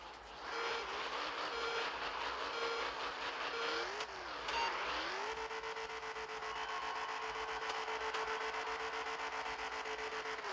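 An 1800 HP Hemi-swapped Fastback Mustang doing a burnout, engine roaring at sustained high revs with tires spinning and squealing, a brief dip and climb in pitch partway through, loud and continuous.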